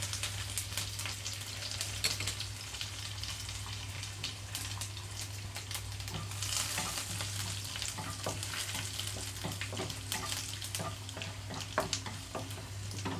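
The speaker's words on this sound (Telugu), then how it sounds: "ఆయిల్ అంతా హీట్ అయిన తర్వాత తాలింపు గింజలు మొత్తం వేసేసుకుంటున్నాను" Tempering seeds and garlic cloves fry in oil, sizzling and crackling steadily throughout, with scattered pops from the frying seeds and a low hum underneath; no one speaks.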